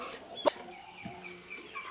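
A few chickens cluck on a small farm, with one brief louder cluck near the start and softer scattered clucks after it, fairly quiet and a little distant.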